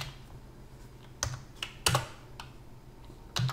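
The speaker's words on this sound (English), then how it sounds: "I just hit the up arrow on my keyboard" A few separate computer keyboard key presses click close up in a quiet room, short sharp taps spaced irregularly over a few seconds.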